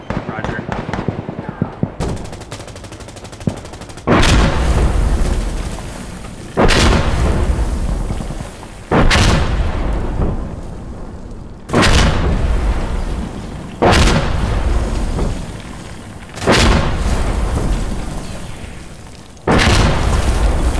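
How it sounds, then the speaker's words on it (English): Explosive mortar shells landing in the Insurgency Sandstorm game, a series of about eight heavy booming blasts spaced a couple of seconds apart, each decaying in a rumble, with a voice speaking between them. "Explosive mortars really inside the objective, like on the second bottom floor"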